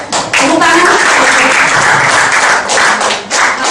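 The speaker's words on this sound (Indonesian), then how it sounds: "Yuk, tepuk tangan." An audience claps for a guest invited up to give a heart-health testimonial, a loud, close burst of applause with slight swells, and speech and voices mixed in among the claps.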